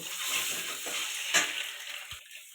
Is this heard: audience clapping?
no